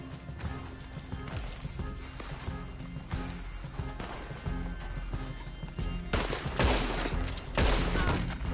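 Gunshots in Red Dead Redemption Online, scattered loud cracks mixed with horse hooves clip-clopping and a whinny, over a busy game soundscape that grows louder toward the end.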